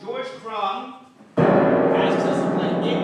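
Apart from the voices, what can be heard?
No everyday noise stands out behind the speech.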